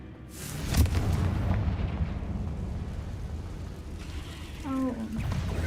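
A Confringo spell explodes in Hogwarts Legacy, a loud booming blast early on that rolls into a long rumbling decay, with a brief tonal chime near the end.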